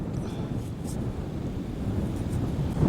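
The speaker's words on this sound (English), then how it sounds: "Well, wind's getting up. Hope you're not hearing too much of it." Low rumbling wind buffets a microphone outdoors at a metal-detecting site, a steady broadband roar that swells slightly toward the end, with no other clear sounds.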